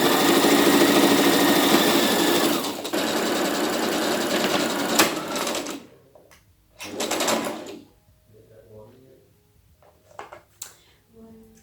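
A sewing machine stitches a ruffle top, running in a loud, continuous whir for about six seconds, then stopping and starting in a few short bursts.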